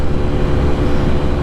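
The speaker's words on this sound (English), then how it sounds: "So we got a car coming behind us," A car coming up from behind on a fast country road, a steady low engine and road rumble heard from a slowly moving 50cc GY6 scooter, continuous and fairly loud with no talking.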